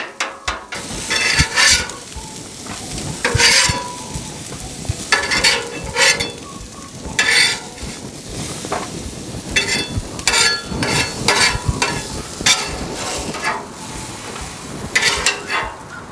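Chopped vegetables sizzle and spit on a hot griddle, seasoned and cooked fast over high heat, with repeated scraping and stirring strokes from a spatula breaking through the steady frying hiss for the whole stretch, close and fairly loud.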